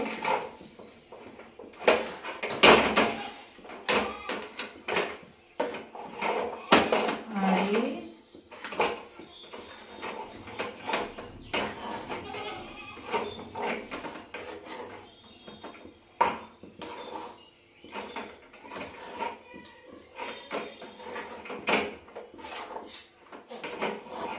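A utensil stirs rice flour in a pan while making kodom pitha, giving irregular scraping, knocking and metallic clatters that rise and fall, with a voice speaking at times.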